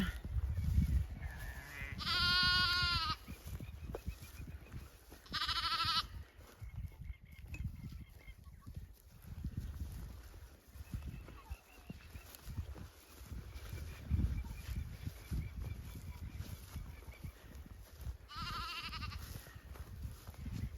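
Sheep and lambs bleat loudly a few times, with long pauses between calls, over outdoor rustling and low wind-like rumble in a paddock.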